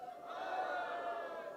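Summit audience in a large hall shouting together in a sustained, loud crowd roar, steady throughout without a break.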